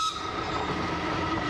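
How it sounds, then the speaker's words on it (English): A train rumbles steadily past at close range, with a sustained metallic tone over the broad rolling noise of wheels on rails. "Okay, so there is a train coming."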